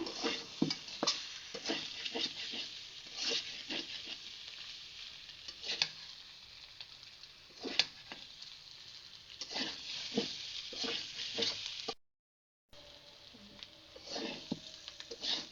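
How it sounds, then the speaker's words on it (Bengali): Beef and onions fry in a pan, a steady sizzle broken by frequent scraping stirs and clatters; a short silent gap falls near the end, and no one speaks. "এটাকে বারবার নাড়তে হবে যাতে আপনার পেঁয়াজটা পুড়ে না যায়"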